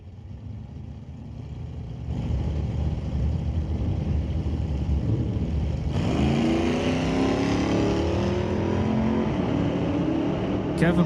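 An Oldsmobile Cutlass and a 2005 GMC launch at a drag strip, engines rising from a rumble into a loud roar that climbs sharply in pitch as they accelerate away.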